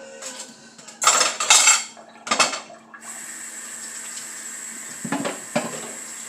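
Dishes and cutlery washed in a kitchen sink: sharp clinks and clatters of metal and crockery in bursts, then a steady stream of running tap water with a few more knocks near the end.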